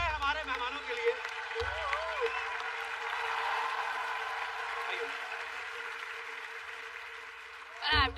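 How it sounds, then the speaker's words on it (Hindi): An audience claps and cheers in a sustained burst while voices carry on over the noise. "एक बार जोरदार तालियां हो जाए हमारे मेहमानों के लिए"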